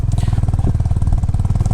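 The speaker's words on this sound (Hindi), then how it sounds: "काफ़ी पावर लग रही है गाड़ी में, बाइक में। और फर्स्ट गियर पे चढ़ाना पड़ रहा है" A Honda Highness motorcycle climbs a steep off-road trail near Devprayag in first gear. Its close exhaust thumps in a fast, steady, evenly spaced beat under load.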